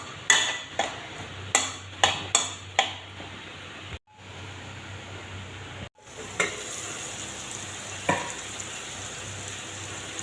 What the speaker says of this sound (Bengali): এবার নেড়েচেড়ে ঢাকা দিয়ে দেব